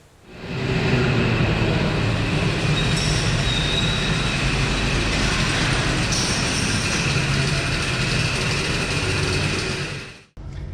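A two-stroke Suzuki Jimny engine drones steadily while the vehicle is driven, a loud, continuous broadband rumble and rattle from start to finish that cuts off abruptly near the end.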